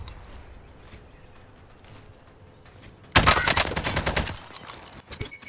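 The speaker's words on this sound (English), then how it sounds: "send some shots down range" Video game gunfire rips out after a few quiet seconds, a close, loud burst of rapid shots fired down range, then a handful of scattered single reports that follow.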